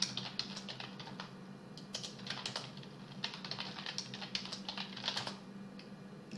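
Close, quiet keystrokes tap out a password on a computer keyboard in quick irregular clusters over a faint steady background hum.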